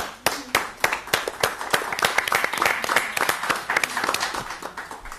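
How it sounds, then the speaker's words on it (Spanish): Audience applause on an Argentine television talk show, a dense burst of many hands clapping at close range, steady and lively throughout the clip with no voices over it. "Hay aplauso, ¿no?"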